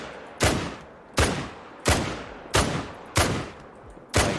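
Six rapid F.I. Sporter .303 rifle shots fired in the hunting game theHunter: Call of the Wild, each a loud sharp crack with a decaying echo tail, spaced evenly about two-thirds of a second apart with no talk.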